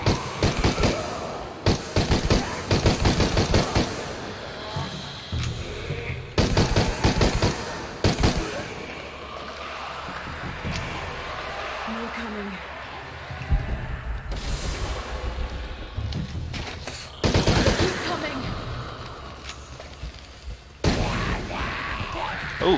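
Shotgun and other gunfire in the video game Shadow of the Tomb Raider: loud, sharp blasts come in separate bursts with quieter gaps of game noise between them.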